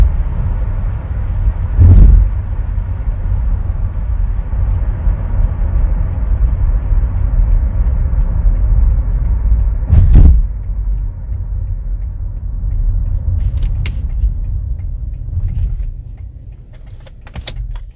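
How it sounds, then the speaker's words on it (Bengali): A car rolls in neutral from 100 km/h while braking, making a loud, steady low road and cabin rumble with two heavy thumps along the way. The rumble slowly fades as the car slows. "এই মুহূর্তে আমার গাড়ির স্পিড একশো এখন যদি আমরা গাড়িটি নিউট্রাল করি"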